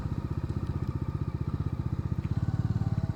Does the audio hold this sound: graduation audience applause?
no